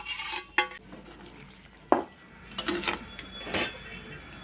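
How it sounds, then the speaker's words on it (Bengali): Potatoes tossed and fried in rohu fish oil, with metal spatula scrapes and clanks against the pan over a faint sizzle, spaced irregularly and heard up close. "ভেজে রাখা আলুগুলো দিয়ে আরও আমি কিছুক্ষণ ভাজবো"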